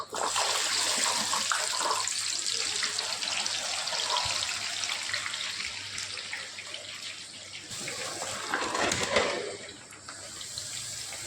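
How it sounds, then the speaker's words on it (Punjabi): Pieces of ash gourd (petha) frying in hot oil give a steady, dense sizzle and hiss that runs through the whole stretch. The level stays loud and even, swelling a little near the end. "ਤੇਲ ਗਰਮ ਹੋ ਚੁੱਕਿਆ ਇਹਦੇ ਵਿੱਚ ਆਪਾਂ ਪੀਸ ਫਰਾਈ ਕਰਾਂਗੇ ਪੇਠੇ ਦੇ"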